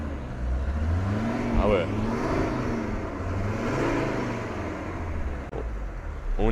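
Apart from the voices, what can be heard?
Mercedes 190D diesel car engine running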